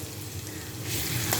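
Garlic frying in a pan for a mixed leafy greens dish, a steady close sizzle that grows a little louder and brighter partway through, with no talking.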